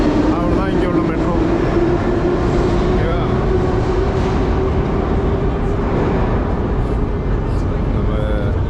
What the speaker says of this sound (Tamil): நம்ம இங்கே உள்ள மெட்ரோ காமிக்கணும்னு ஆசைப்பட்டேன்